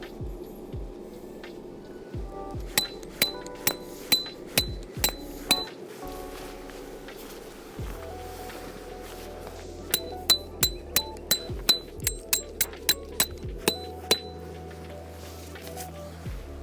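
Stakes for a Snow Peak Land Nest Shelter tent are hammered into the ground. Two close bursts of about seven sharp, ringing metallic strikes each come at a steady rhythm, separated by a quiet pause and a faint hum.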